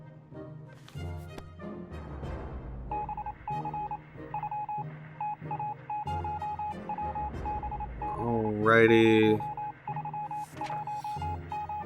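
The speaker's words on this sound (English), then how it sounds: "So I hear the Morse code." Morse code tones pulse in steady rhythmic beeps over radio static in the video game 60 Seconds! Reatomized, with a brief louder warbling burst partway through and a short spoken word early on.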